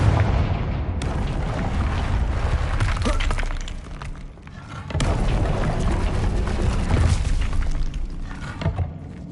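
Confringo fire spell blasts in Hogwarts Legacy, a video game: two loud booming explosions with crackling debris, one at the start and another around the midpoint, each followed by a rumbling tail.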